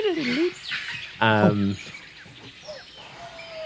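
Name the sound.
bird noises sound effect, an owl hooting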